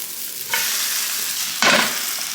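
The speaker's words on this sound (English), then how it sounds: "now we're just going to flip this over, just like a veggie omelet" Egg and vegetable mixture for Korean street toast sizzles steadily in a hot pan, with two louder bursts of frying as it is flipped, close and alone without voices.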